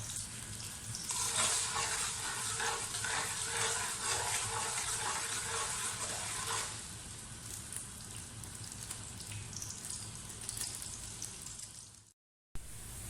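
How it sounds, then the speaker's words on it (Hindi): Onions sizzle steadily in a hot pan, a continuous crackling hiss that softens a little midway and cuts off abruptly near the end. "इसे हम तब तक भूनेंगे जब तक ये सुनहरी ब्राउन नहीं हो जाता।"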